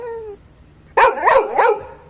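A pet Labrador named Zoey barks three times in quick succession close by, sharp loud yaps after a short quiet pause.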